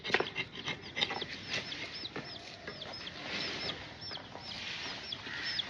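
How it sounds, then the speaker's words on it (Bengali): A chick cheeps in a village home, its thin high peeps repeating in quick, steady bursts at close range, with rustling and other background sounds underneath. "এই মুরগির বাচ্চাটাও এখন আমাদের ফ্যামিলি মেম্বার।"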